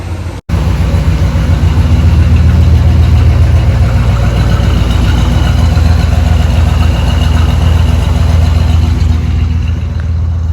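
A car engine idles steadily, a loud, continuous low rumble with no voices, holding unchanged from start to finish.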